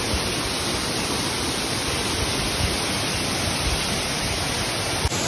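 Waterfall at Brotas, Brazil, a steady close roar of falling water that stays loud and unbroken throughout, with no voices.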